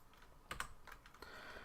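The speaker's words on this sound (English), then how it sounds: "Very fast clicking." Rapid bursts of computer keyboard or mouse clicking during a Minecraft session, a few quick clusters of sharp clicks over a quiet background.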